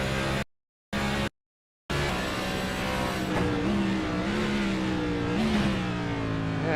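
A NASCAR race car engine in a racing game, after two brief dropouts, holding a loud steady drone whose pitch steps and wavers as the car downshifts into first for a tight corner.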